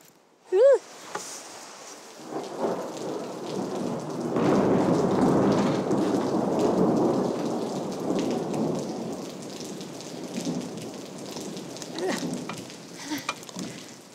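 Rain falls steadily on a building site during renovation work, a broad hiss that swells in the middle and eases off again, with a brief voice near the start and a few knocks late on.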